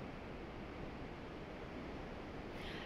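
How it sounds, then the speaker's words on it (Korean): High waves churn at Beophwan port in Seogwipo, Jeju, as Typhoon Prapiroon approaches, a steady dense roar of surf and wind filling the whole stretch without pause or voices. "이곳 서귀포시 법한포구에는 파도가 점차 높아지고 있습니다"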